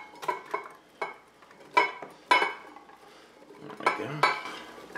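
Chopped vegetables for gazpacho tipped into a blender jar, a run of clattering knocks and clinks at varied loudness, with a sliding scrape near the end and no talking.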